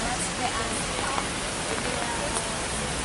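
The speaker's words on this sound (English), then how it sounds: "Today is a victory day and it's raining hard." Heavy rain pours steadily over Pyongyang, a dense, even hiss of drops hitting surfaces at moderate distance, with faint voices underneath.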